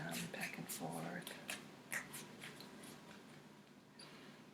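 A tarot deck is shuffled back and forth by hand, a soft rapid ruffle of cards in short bursts, close and quiet, tapering off toward the end.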